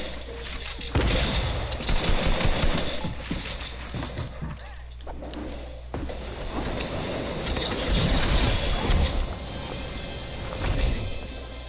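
Rapid bursts of gunfire crackle in a Fortnite match, loud and dense, with several volleys over the clip and a player talking over the shooting.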